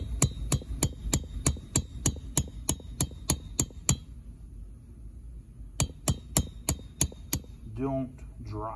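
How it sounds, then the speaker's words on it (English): A small hammer taps lightly to drive out the wrist pin of a two-stroke engine, giving a rapid, even series of sharp metallic clinks up close. The tapping pauses, resumes in another quick run, then a brief rattle follows. "Don't drive it, don't whack it hard. Just barely tap it."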